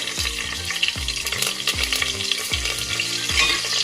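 Whole spices for pulao (bay leaf, cinnamon, cloves, cardamom and star anise) fry in ghee in a pan, giving a steady close sizzle with bursts of stirring about every second under a low repeating tone.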